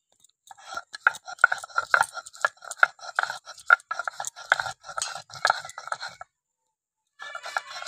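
Ginger and garlic are ground into a paste, most likely on a stone, with rapid rhythmic scraping and grinding strokes close up that pause briefly before resuming.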